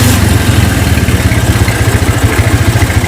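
A restored Honda GL Max motorcycle fitted with an HM KG.3 exhaust idles loud and close after a kick start, its single-cylinder beat thumping in a quick, even rhythm throughout.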